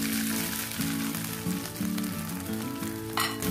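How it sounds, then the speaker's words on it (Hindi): Shredded chicken sizzles and fries steadily in a few teaspoons of hot oil in a pan, a continuous close crackle running under a low background tone. "ऑयल ऐड करने के साथ ही इसमें आपने श्रेडेड चिकन ऐड कर देना है।"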